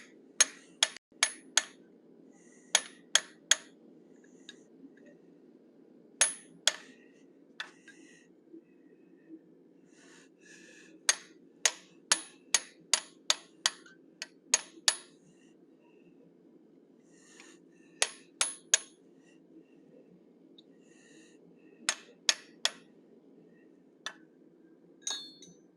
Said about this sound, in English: So now I'm using my teardrop shaped bob punch. I'm going to open up the eye sockets to accept the eye punch.